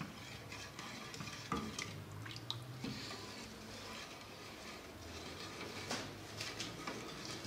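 A spoon stirs sugar syrup for feeding honey bees in a pot, giving soft scraping swishes and occasional light clinks against the metal, steady and quiet.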